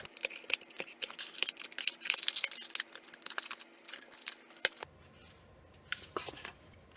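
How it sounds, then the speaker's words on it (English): Scissors snip through a Styrofoam cup in a rapid run of crisp, close clicks and crunches for several seconds, then the cutting stops and a few faint scattered snips follow in near quiet. "I'm going to use Styrofoam Cup. And I'm going to cut it out."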